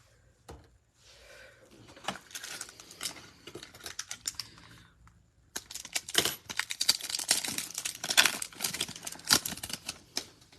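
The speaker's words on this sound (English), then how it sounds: "Let me relocate some cards over to my right real quick." Hockey trading cards shuffled and moved on a table during a card break, a steady run of soft papery slides, flicks and taps with a brief pause midway, close and fairly quiet with no talking.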